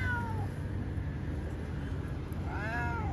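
A cat meows twice, once at the start and again near the end, both close and clear over a steady hum of background noise outdoors at night in Delhi.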